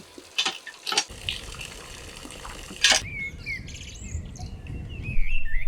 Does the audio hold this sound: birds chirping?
yes